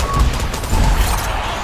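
Turret gunfire in a video game, a loud continuous fusillade of rapid shots heard up close.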